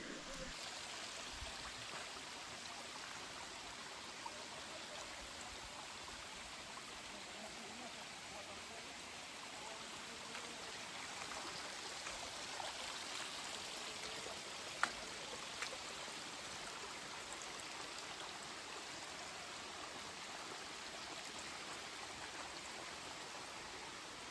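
A river stream flowing past a backyard in Portland, Jamaica, heard as a steady, soft broadband rush of moving water that holds evenly throughout, fairly distant and faint, with a few small clicks.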